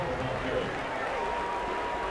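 Oklahoma Sooners football stadium crowd at a 2003 game against Oklahoma State, a steady broad roar of many voices and scattered clapping, with a commentator talking over it.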